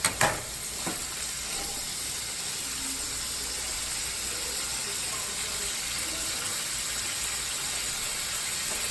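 Shrimp and sausages sizzle steadily in a pan for an Alfredo dish, a dense continuous frying hiss with a couple of brief knocks at the start.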